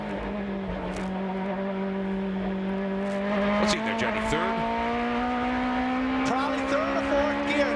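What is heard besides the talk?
race car wheel spin coming over a hill, in-car camera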